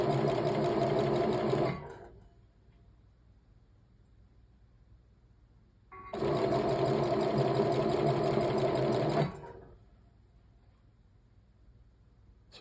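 A Union Special flatlock industrial sewing machine sews and trims fabric flush in two loud, steady bursts of whirring stitching, each a few seconds long, separated by quiet pauses.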